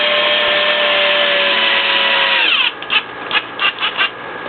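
Power driver with a T15 bit driving screws back into the front end of a Traxxas Slash 2WD RC truck, a loud steady whine that winds down partway through, followed by several short spurts.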